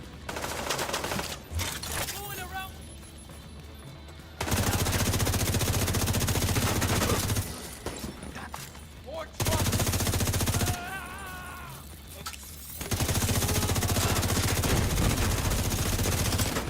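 Loud sustained bursts of video game gunfire in several long volleys separated by short quieter gaps with some talk, the firing dense and close.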